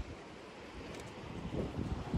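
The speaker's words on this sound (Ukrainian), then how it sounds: "Шум водички, прибой." Gentle surf washing onto the shore at an evening seaside, faint and distant, mixed with soft wind rumble against the microphone.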